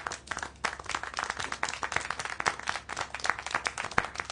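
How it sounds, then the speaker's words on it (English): Applause in the video game Syberia The World Before, a small group clapping continuously and unevenly, dense sharp claps close by, with no voices. "How can you clap?"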